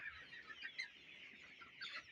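Hens clucking and calling faintly and steadily in a backyard coop during the rainy season, with no voices.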